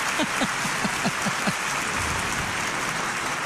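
A baseball stadium crowd claps live in a broad, continuous roar of applause at a fast home run derby, heard at a steady level with some low thumps early on.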